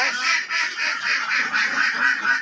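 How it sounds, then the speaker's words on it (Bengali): A dense flock of about 250 egg-laying ducks quacking and honking continuously in rhythmic waves, loud and close, with no voices. "এখানে হাঁস আছে দুইশো পঞ্চাশটা"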